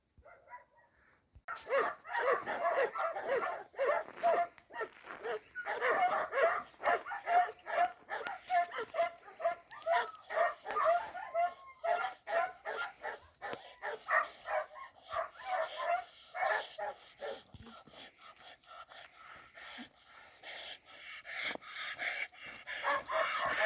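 Young West Siberian Laika hunting dogs bark in steady, rapid volleys for over twenty seconds, moderately distant, with a rooster-like crow mixed in among the repeated barks.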